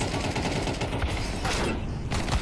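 Continuous rapid gunfire crackles and booms in dense bursts in Counter-Strike 2, loud and unbroken, with a faint voice buried underneath.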